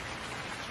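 Steady rain pours down in a Hindi animated Panchatantra jungle animal story, a dense even hiss with no talk over it.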